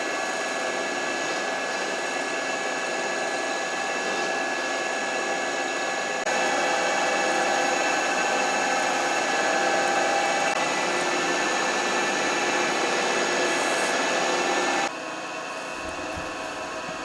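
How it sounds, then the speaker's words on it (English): A CNC machine cuts the first perimeter level of a shifter mounting part for a Tremec T56 remote shifter, giving a loud, steady whine of spindle and machining noise that shifts in tone partway through and drops near the end. "The next step was to machine the first layer, or the first level of the perimeter of the part that the shifter bolts to actually"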